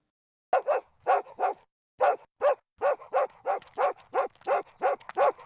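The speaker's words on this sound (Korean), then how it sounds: "멀리서 개 짖는 소리가 들려왔어요." A dog barks again and again, about fifteen sharp barks in a steady series, first in pairs and then evenly spaced, clear against silence.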